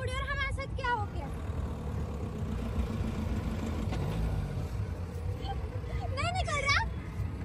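A car engine revs and whines as the vehicle sits stuck in a pit on a large open ground during a Makar Sankranti kite-flying outing in Pushkar, rising in two bursts under loud voices and crowd chatter.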